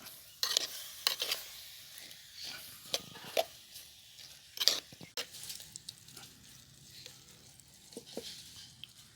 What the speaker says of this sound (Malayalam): എന്നിട്ടൊന്ന് ഇളക്കി കൊടുക്കണം.